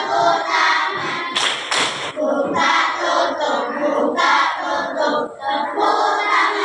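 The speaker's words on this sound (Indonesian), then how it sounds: "Bertepuk tangan." Third-grade schoolchildren in a classroom clap their hands in a few loud bursts while their voices chant and shout together throughout.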